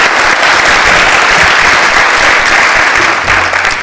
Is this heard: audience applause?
yes